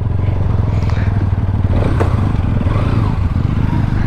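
A Pulsar NS 200 and an Apache RTR 200 move off together, a steady close engine drone with light clatter and rising throttle as the motorcycles get underway.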